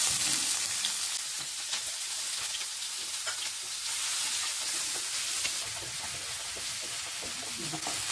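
Onions fry in hot oil in a pan, a soft, continuous sizzle with light crackles and occasional stirring scrapes, heard close and fairly quiet without speech.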